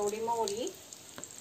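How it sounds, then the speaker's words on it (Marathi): Cumin seeds sizzle in hot oil over a village-style wood fire. A faint, soft crackle sits beneath a brief spoken word. "आता जिरं टाकते."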